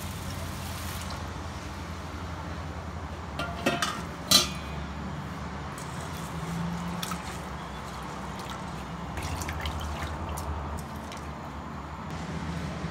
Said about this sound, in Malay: Sekarang kita boleh tuang air dan basuh hingga bersih.